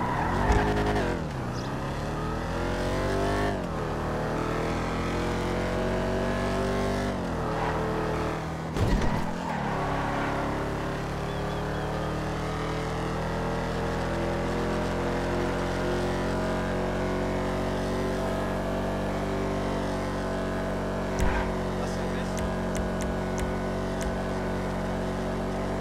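A D-Class Virgo ZX convertible muscle car drives in a video game, its engine revving up and down in rising and falling sweeps, with tire squeals and skids over a steady loud drone.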